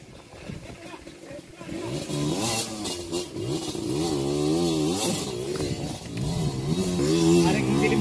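Motorcycles rev on a jungle trail, their engine pitch rising and falling in wavy surges, under steady close talk throughout.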